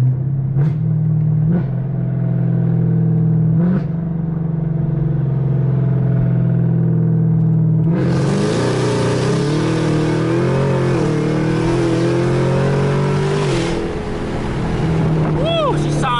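A modified Camaro ZL1 engine revving through the gears, a loud close rumbling drone that holds steady, then rises sharply in pitch and intensity midway before easing back.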